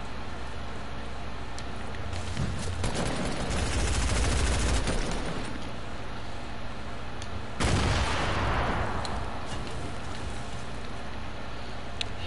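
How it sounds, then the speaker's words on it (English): Bursts of shotgun fire in a stormy video game, heavy blasts around three to five seconds in and again near eight seconds, ringing out over a steady rain-like hiss. "A shotgun."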